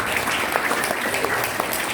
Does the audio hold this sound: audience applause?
yes